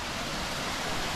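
Water rushing through Form Gorge down into Crystal Creek, a loud, steady, broadband roar with no breaks, close by and filling the scene.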